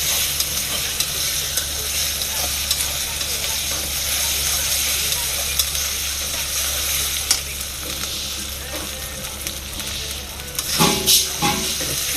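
Ginger-garlic paste frying in hot oil, a loud continuous close sizzle with a low steady hum beneath and a few scraping stirs near the end.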